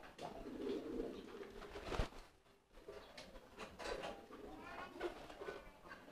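Pigeons coo softly in low repeated phrases, close by, with a brief sharp knock partway through and faint background voices.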